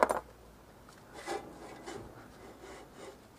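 Rear brake drum on a Citroën C15 rubbing as the wheel turns, a faint repeating scrape that rises and falls in soft cycles after a sharp knock at the start.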